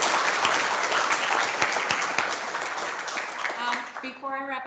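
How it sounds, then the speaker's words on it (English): An event audience applauds the speakers with a steady patter of many hands that fades out toward the end as a voice begins speaking. "let's give a round of applause to all our speakers"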